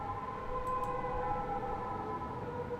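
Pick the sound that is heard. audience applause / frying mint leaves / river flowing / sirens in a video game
sirens in a video game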